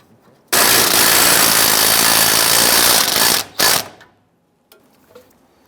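A ratchet wrench tightens a bolt on the fuel tank of a 1995–2001 Ford Explorer, a loud, steady, dense clicking run lasting about three seconds, then a brief second burst before falling quiet.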